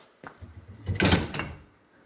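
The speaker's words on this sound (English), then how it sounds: "taking some weight off and sliding your bolts out here" Bolts slide out of the ball joints on a Polaris RZR front suspension, making a brief, close metallic scrape that builds to a short clunk and then fades.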